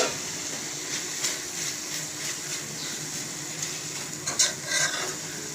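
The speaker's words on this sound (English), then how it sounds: "And we give it a light stir." A spatula lightly stirs achari methi baingan, eggplant with fresh fenugreek leaves, in a pan over steady sizzling, with a few soft scrapes and knocks rising near the end.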